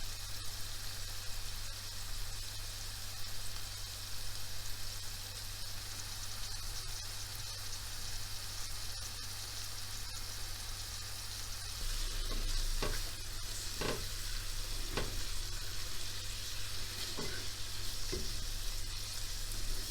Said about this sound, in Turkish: Soğanımız biraz sotelenecek. Biberlerimi de ilave ettim.